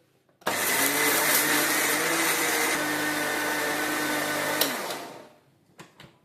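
A mixer grinder jar whirs loudly and steadily for about four seconds while grinding idli chutney, then winds down, followed by a few light clicks and knocks.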